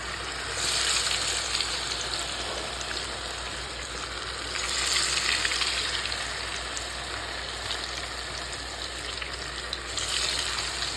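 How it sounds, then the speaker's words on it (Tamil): Fish sizzles and crackles steadily in hot oil, a dense continuous hiss close by, swelling slightly at moments. "இப்போ வந்து நம்ம மீன் வந்து பொறிக்க போகிறோம்"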